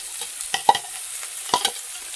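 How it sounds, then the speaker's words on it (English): Onion and garlic hit a pan on medium-high heat, giving a soft, faint sizzle broken by a few light scrapes and taps of stirring. "Now, getting my onion and my garlic in here."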